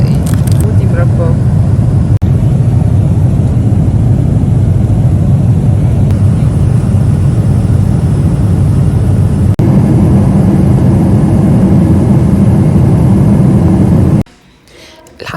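Steady, loud low-frequency engine drone inside an airplane cabin during a flight to Korea, continuous for about fourteen seconds before cutting off abruptly near the end.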